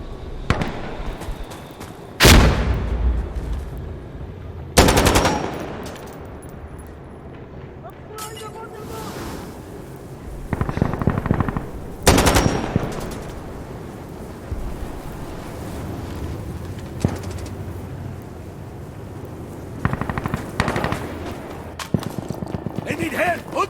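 Heavy gunfire in the video game Insurgency Sandstorm, several loud, sharp blasts and bursts spread irregularly over a rumbling, windy background, with players talking in between.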